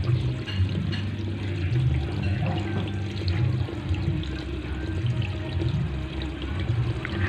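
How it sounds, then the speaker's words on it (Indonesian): Running water rinses hands during handwashing, a steady close splashing flow that continues without pause and with no talk over it. "Bilas dengan air bersih."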